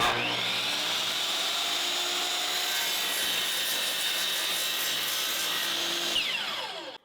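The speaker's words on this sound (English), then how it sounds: "we're going to put a 45-degree cut on this bad boy" Power saw making a 45-degree cut through a wooden board for a plant stand, a loud, steady grinding whine that holds for nearly the whole stretch, then spins down near the end.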